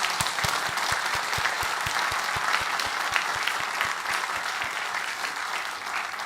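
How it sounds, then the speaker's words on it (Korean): A church congregation clapping steadily at a Christmas service, loud and sustained for several seconds without any talking. "우리 격려의 박수 한번 크게 하겠습니다"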